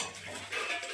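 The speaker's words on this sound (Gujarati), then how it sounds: "તો હું તરી રહ્યો છું પાપડ" Papad frying in hot oil in a pan while khichdi is being cooked, a steady close sizzle with light crackle across the full second.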